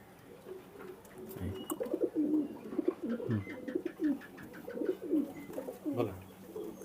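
Indian Ablook Kalanka high-flying pigeons cooing in repeated soft, throaty bursts, close by, with faint background voices and a few light chirps.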